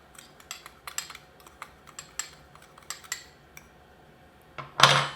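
Sugar and cinnamon are stirred together in a bowl, with a run of light, evenly spaced spoon clicks and taps against the dish, then one louder scraping clatter at the end, quiet and close.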